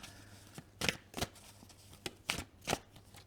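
A deck of plant-themed oracle cards gets a short hand shuffle, several close, crisp card slaps in uneven succession over quiet room tone.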